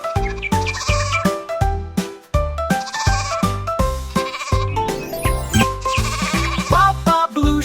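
Sheep bleat in a children's nursery rhyme song, a rapid run of loud, musical, sustained baas repeating one after another in a steady rhythm with no talking.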